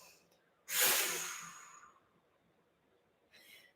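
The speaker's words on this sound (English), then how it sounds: "you purse the lips on the exhale" A single forceful exhale through pursed lips during a power breathing exercise: a loud, close airy rush that fades over about a second, followed by a fainter breath near the end.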